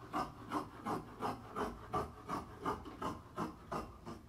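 Fabric for a simple boat-neck pleated dress being cut, a steady rhythmic series of about a dozen rasping snips or strokes at a quick even pace, close and moderately loud with no talking.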